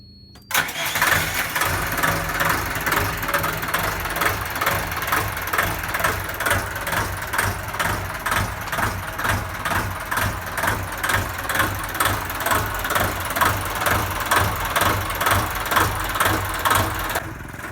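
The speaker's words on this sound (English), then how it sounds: "So let's run the engine." A sailboat's engine starts and settles into a steady idle, a close, continuous throbbing chug with a regular pulsing rhythm and no talk.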